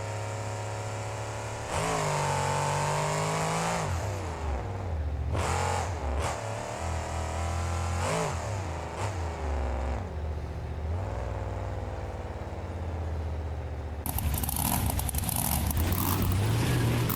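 A monster truck engine in BeamNG.drive revs repeatedly at a monster jam show, rising and falling in loud surges, then roars harder near the end.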